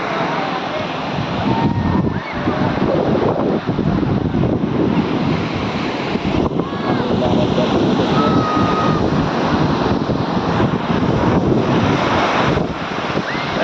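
Sea surf washes ashore with a steady, loud roar, heavily buffeted by wind rushing across the microphone, the washing sound continuous throughout.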